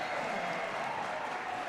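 Basketball arena crowd roaring and applauding after a forced turnover in a men's college game between LTU and Indiana Tech, a steady, dense wash of cheering with no break.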